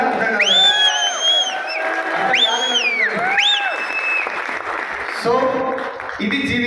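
Audience at a motivational talk breaks into loud, sustained applause, with rising whoops and whistles cutting over the dense clapping throughout.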